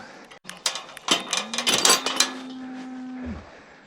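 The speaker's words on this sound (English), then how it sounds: "That is the sound of cows." Cows moo several times in an outdoor field, one long drawn-out low moo standing out clearly near the end.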